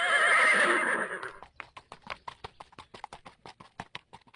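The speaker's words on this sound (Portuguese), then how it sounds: "segurando o chapéu, chicoteou os cavalos" Horses give a loud, drawn-out neigh, then their hooves clip-clop in a quick, steady rhythm that carries on to the end.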